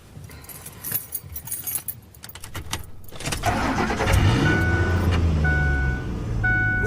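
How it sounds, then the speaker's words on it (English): Keys jangle briefly, then a car engine cranks and catches, settling into a steady nearby idle with a few faint chimes. "Next, we turn on the engine."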